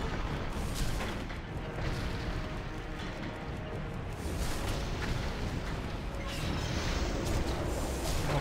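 Turret shots in World of Warcraft ring out as dense, continuous booming blasts that hold steady throughout, loud and crowded with crashing impacts and no voice over them.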